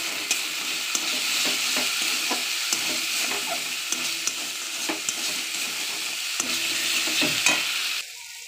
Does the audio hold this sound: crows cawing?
no